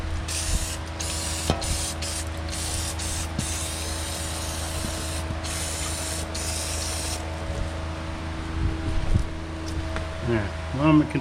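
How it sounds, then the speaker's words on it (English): Cleaner sprays steadily onto engine parts from a 2004 Ford Escape 3.0 V6 during a head gasket and timing cover teardown, a close, continuous hiss lasting about seven seconds before it stops and quieter shop noise remains. "I'm going to continue to spray for a bit."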